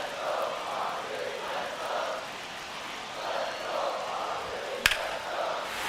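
Stadium crowd noise from a baseball video game, MLB The Show 25, Padres against Giants: a steady, swelling murmur and cheer in waves, with one brief sharp crack near the end.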